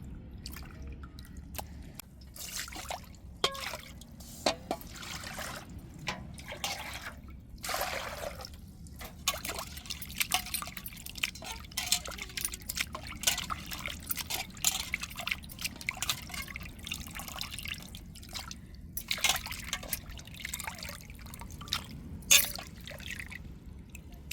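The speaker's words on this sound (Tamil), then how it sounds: "இப்போ இறாலை வந்து நம்ம நல்லா அலசி எடுத்துக்கிட்டாச்சு" Peeled prawns are rinsed and swished by hand in water for a prawn dish, giving scattered close drips, splashes and trickles at moderate level with quiet pauses between, no talk.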